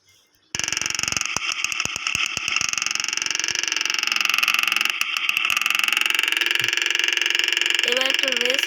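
A motorbike engine in a racing video game drones continuously at a steady pitch, with rapid pulsing revs early on, loud and close over background game music, with a voice near the end.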